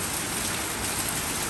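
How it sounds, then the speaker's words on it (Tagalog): Rain falls steadily outdoors by a garage, a dense, even hiss of drops hitting surfaces, continuous and fairly loud with no talk. "Maghapong umuulan mga repa!"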